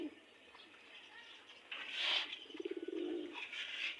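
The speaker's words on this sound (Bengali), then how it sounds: "আর এখানে আমার বেজি কবুতর আছে এক জোড়া, বেজি কবুতর" Pigeons coo nearby in a soft, throaty burst of rapid pulses, with faint rustling and other bird sounds in the background.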